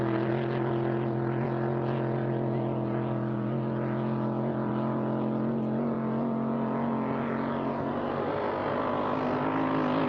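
Grand Prix America racing boat engine thundering as it opens up along the Lake Guntersville shoreline during Gold Cup testing, a loud, steady, continuous drone with a deep harmonic hum and rising intensity near the end.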